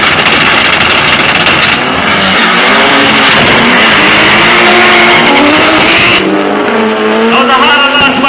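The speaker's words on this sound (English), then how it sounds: "That was a harder launch by King Bill." Loud, close drag race car launching hard down the strip at a Grenada Motor Club drag meet, engine roaring and revving with tire squeal, pitch sweeping upward as it accelerates away.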